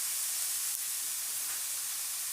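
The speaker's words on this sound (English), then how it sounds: "You're just frying it to get the flavor out of it" Pork sizzles in a pot, frying only to draw out flavor for seasoning string beans, a steady close hiss with no talk.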